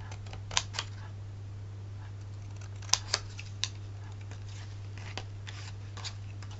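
Scissors snipping a small piece of craft material: a handful of sharp, separate clicks and snips, near and fairly quiet, spread irregularly over a steady low electrical hum.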